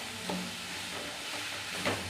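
Pasta being stirred with spices in a pan at home, a soft scraping stir with light sizzling, two brief louder strokes standing out against a low steady background.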